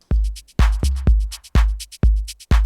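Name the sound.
soloed drum track on Ableton Move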